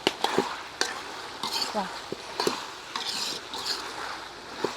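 Potato curry ingredients, salted, sauté in a pan and are tossed by hand. A soft sizzle runs beneath sharp, irregular scrapes and knocks of stirring against the pan.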